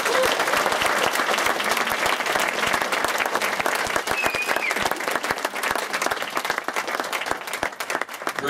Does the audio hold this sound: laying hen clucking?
no